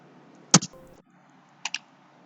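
Right clicks on a computer mouse: two short, sharp click bursts about a second apart, close and crisp in an otherwise quiet room.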